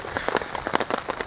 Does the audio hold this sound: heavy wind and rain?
yes